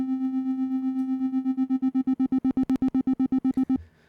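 A Caustic 3 modular synth holds a steady low tone whose volume begins pulsing under slow LFO amplitude modulation, the throbs growing deeper and quicker until the note stops abruptly.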